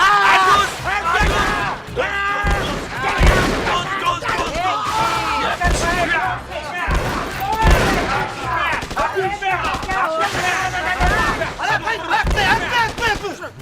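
Several people in a comedy scene shout imitation gunfire with their voices, pretending to fire into the air with hand guns; dense overlapping bursts and yells continue loudly throughout with no real weapons.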